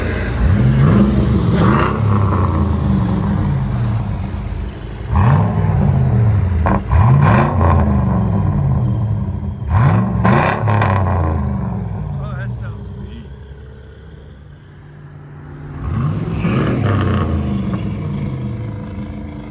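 A 2004 Chevy Silverado SS with a 6.0L V8 and Carven R-Series exhaust revs loudly outdoors, giving several sharp throttle blips that rise and fall back to a deep rumbling idle, with a voice briefly audible between revs.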